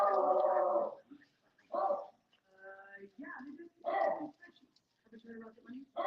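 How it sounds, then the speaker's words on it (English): A dog barks in repeated bursts with yips and whimpers mixed in, fairly close, while people talk around it and a livestream watch-along runs in the background. "That's why the dog is barking like a mad person."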